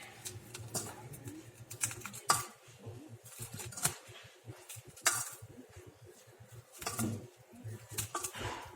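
Fresh pico de gallo being mixed around in a bowl with a spoon, giving faint irregular clicks and scrapes at a moderate distance with no talking.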